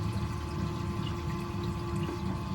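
An aquarium auto top-off unit with an optical sensor runs on a Waterbox 100.3 reef tank, giving a steady, close watery pumping flow with a constant low hum and no gaps.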